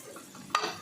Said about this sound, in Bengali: মটরশুঁটিটা দিয়ে একবারে কষাচ্ছি